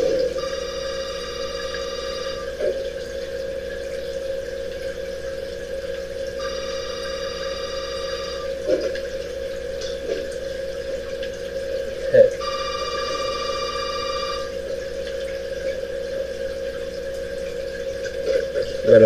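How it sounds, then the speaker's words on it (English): A telephone rings in Resident Evil 7, in three long electronic bursts separated by pauses, set over a steady low hum with a few soft clicks and thumps in between. "Got a phone call, folks."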